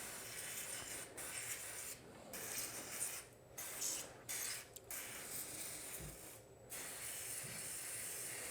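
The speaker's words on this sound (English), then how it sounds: "hit her with some contact cleaner" Bursts of contact cleaner spray onto a Yard Machines 21 inch push mower engine, sharp aerosol hisses in several short blasts separated by brief pauses, close and fairly quiet.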